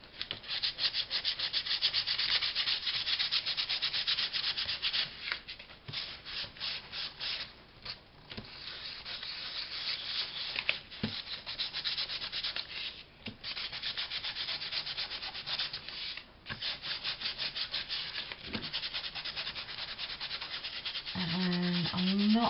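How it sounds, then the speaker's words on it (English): An emery board rubs gently against paper in steady, close, soft scratchy strokes, pausing briefly between passes, with no talking. "I'm just gonna take a little emery board and do a little bit of sanding, just very, very delicate"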